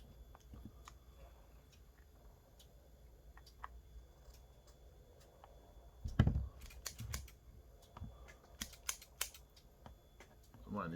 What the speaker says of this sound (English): Might need some new scissors